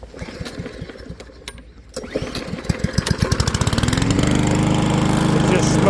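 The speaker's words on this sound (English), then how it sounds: "now it's time to cut some grass with this bad boy" Yard Machines push lawn mower pulled to start, catching after several rapid chugs and settling into a loud, steady running drone close by.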